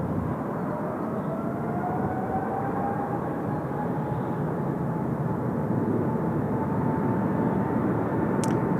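An airliner rolls for takeoff at Seoul Incheon Airport, its jet engines producing a loud, sustained roar with a slowly shifting whine and no speech.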